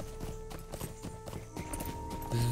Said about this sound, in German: Pferdchen. Da unten.